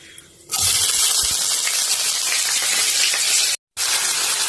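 Onions and chilli frying in a pan for a home-cooked lunch box, a loud steady broadband hiss and crackle that starts abruptly, holds for about three seconds, cuts out briefly, then resumes.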